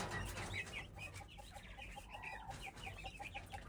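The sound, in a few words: chickens clucking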